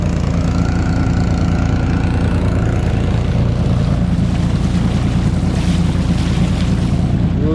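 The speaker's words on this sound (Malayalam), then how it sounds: "നല്ല മഴയുണ്ട് വലിയ തുള്ളിയാണ് കേട്ടോ" Heavy rain with big drops pours down around a small fishing boat on a Kerala backwater, a loud, dense, unbroken roar of water and wind with no break.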